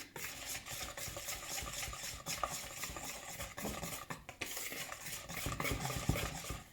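Spoon stirring milk into pancake batter in a bowl, a steady run of close scraping and clinking strokes with brief knocks against the bowl, and no one speaking.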